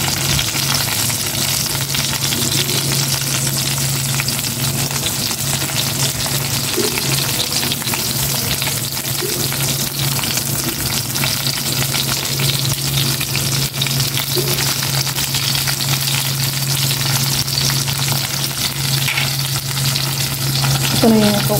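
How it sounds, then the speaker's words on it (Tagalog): Eggplant sizzles and crackles steadily in hot oil, a continuous close frying hiss with occasional faint clinks, no talking. "Prito ko na rin itong talong."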